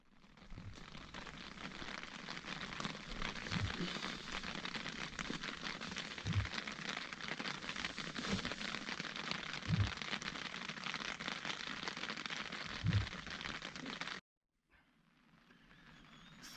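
Steady rain patters at night on a solo camping trip beside the Mae Moei reservoir in Lamphun, a quiet continuous hiss with a few soft low thumps of drops, ending abruptly before faint sound returns.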